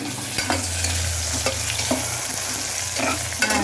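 Steady frying sizzle of onions sautéing in a pan for biryani, with occasional scrapes and stirring clatters, continuous and close, no voices.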